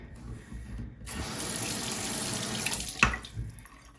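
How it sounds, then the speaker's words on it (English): Tap water runs steadily over Lamy 2000 fountain pen parts during a quick rinse, with faint clicks at the start and a brief knock near the end before the flow eases. "Give him a quick rinse, hold on to him tightly."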